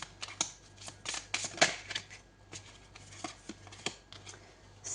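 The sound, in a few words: shuffling tarot cards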